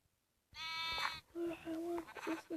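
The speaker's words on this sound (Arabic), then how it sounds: "ايه بيبي خروف." A sheep bleats up close on a farm, a wavering bleat after a moment of quiet, followed by shorter calls alongside quiet speech.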